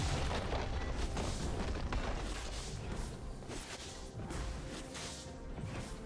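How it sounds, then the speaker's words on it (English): A turret is destroyed in the video game League of Legends, with a sustained, dense rumble of crashing and booming blasts that stays loud throughout, shifting slightly in intensity. "Blue Team's turret has been destroyed."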